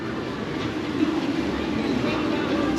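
A roller coaster train rumbles along its track at Bobbejaanland near the lift hill, a steady low mechanical roar that swells slightly, with faint voices nearby.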